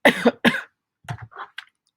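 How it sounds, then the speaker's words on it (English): Two sharp coughs close together, followed by a few softer throat-clearing sounds and short breaths, near and fairly quiet. "I've had a little cough."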